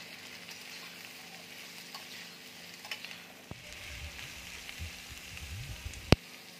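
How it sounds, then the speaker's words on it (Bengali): Potato pieces frying in oil in a pan, a soft steady sizzle with occasional stirring scrapes and a sharp clink near the end, fairly quiet throughout. "এবার আমি আলুটা লাল করে ভেজে নেব।"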